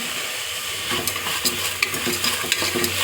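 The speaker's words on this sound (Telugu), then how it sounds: "కొద్దిగా ఉప్పు, వేసి కలబెట్టుకున్నాం." Black-eyed pea curry with turmeric and salt stirred in a pan, a soft scraping and light sizzle with irregular spoon knocks against the metal, fairly close and steady, with no voices.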